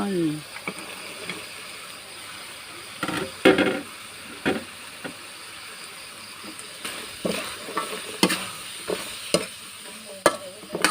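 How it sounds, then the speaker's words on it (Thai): Fresh garden-grown yardlong beans tossed and stir-fried with shrimp paste in a pan, giving a soft sizzle broken by irregular scraping and clattering stirs, close and moderately loud, with no talking. "ไม่ต้องผัดนานนะเพื่อน ๆคลุกเคล้าคลุกเคล้าแป๊บเดียวพอเลย"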